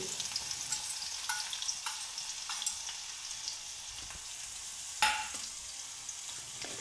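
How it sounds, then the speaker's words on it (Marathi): Finely crushed garlic fries in a pan over a low gas flame, a steady soft sizzle with scattered crackles and a few sharper spatula scrapes, one louder near the end. "गॅस कमी करून आईने बारीक ठेचलेला लसूण इथं घातलेला आहे"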